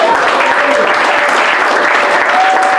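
A church congregation applauds in praise of the king of heaven, a dense, sustained wash of clapping from many hands, close and loud, with no speech.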